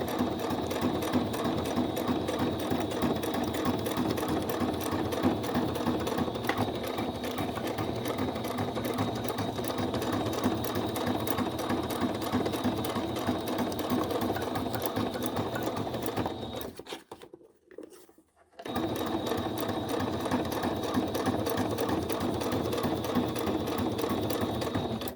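A sewing machine stitching a playing card story book for a junk journal runs in a fast, steady mechanical patter up close, stopping briefly for about a second before resuming at the same pace.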